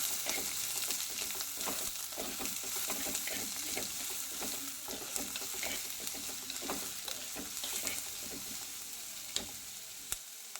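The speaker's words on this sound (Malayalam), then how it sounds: "ചുമന്നുള്ളിയും പച്ചമുളകും എല്ലാം കൂടെ ചേർത്ത് കൊടുക്കണം" Shallots and green chillies sauté in a hot pan for a Kerala prawn theeyal, giving a steady, dense sizzle with frequent scraping stir clicks throughout, close and continuous.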